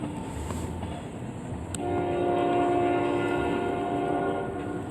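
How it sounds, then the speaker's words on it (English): A Norfolk Southern oil train rolls past, its horn sounding in long sustained blasts over steady rumbling wheels and rail noise that swell louder as it nears. "I wouldn't have known the train was coming if it didn't sound its horn."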